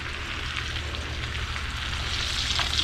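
Foraged wild mushrooms sauté in butter in a pan, giving a soft, continuous frying hiss with faint crackles and a low background hum, with no stirring evident.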